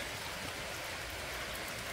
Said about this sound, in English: It is raining again, you guys.